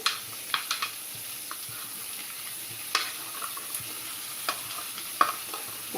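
Ivy gourd (kovakkai) stir-frying in a pan, with a steady faint sizzle broken by occasional scrapes and clinks of a spatula stirring, close and unhurried.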